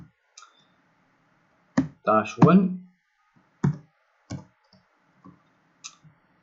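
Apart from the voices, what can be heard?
typing on a computer keyboard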